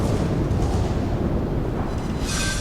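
A shell hit explosion in the naval game World of Warships, a loud deep rumbling boom filling the whole moment, with a brighter crackling burst toward the end.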